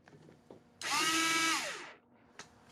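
A power drill runs down the cylinder head bolts on a 2008 Acura MDX, one loud continuous whir of about a second whose pitch sags as it slows, with quiet workshop ambience before and after.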